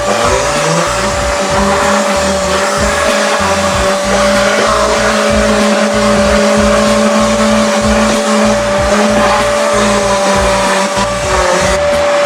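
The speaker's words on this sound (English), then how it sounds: "Vacuum it up." A vacuum cleaner runs loudly and continuously up close, its steady whine broken by rhythmic pulsing as the nozzle moves over a car floor.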